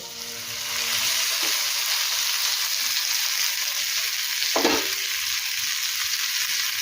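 Paneer tikka skewers fry on a tawa in butter and vegetable oil with a constant bright sizzle, close and even, with a single knock as a skewer is set down partway through.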